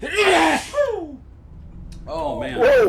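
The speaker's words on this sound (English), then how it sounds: "Man, those sneezes just come on so quick" A man sneezes loudly and close up during a live EVE Online stream, with a sharp burst near the start and another toward the end, his exclamations and breathy voice around them.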